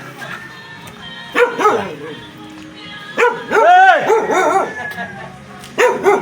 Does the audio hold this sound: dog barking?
yes